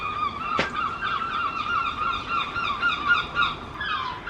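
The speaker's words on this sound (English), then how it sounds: "This whole video so far is just seagulls calling." Seagulls calling near the sea, a string of harsh honking cries from several birds repeating over a quiet outdoor background, with one sharp click early on.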